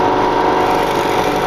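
A drill bores steadily down into a workpiece block, a continuous loud mechanical whine and motor hum with no talk.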